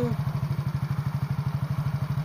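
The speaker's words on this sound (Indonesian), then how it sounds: "Nah, ini nyala mesin." A motorcycle engine idles close by with a rapid, even chugging pulse that stays steady throughout.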